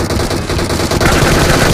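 Loud, dense gunfire from the BGMI battle royale mobile game: rapid automatic bursts run continuously throughout, close and unbroken, with no talking.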